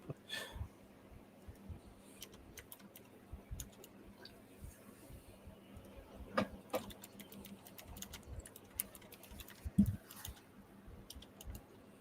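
Typing on a computer keyboard: quiet, irregular soft clicks and taps scattered over a low background murmur.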